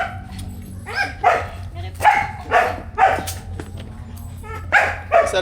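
A dog barks and yips in repeated bursts at close range, with a few whimpering notes, while people talk over and between the barks.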